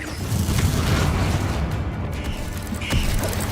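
In the video game Hogwarts Legacy, a Confringo fire spell bursts against enemies, giving a loud, dense, rumbling blast that lasts the whole moment, with a brighter crackling pop near the end and no talking.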